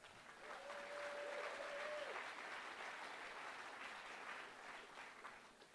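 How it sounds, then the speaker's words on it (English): A gathered audience at a community session claps for a speaker, steady applause from a crowd that stays even throughout, heard from a distance and fairly quiet, with a brief tonal whine near the start. "Let's give him a clap."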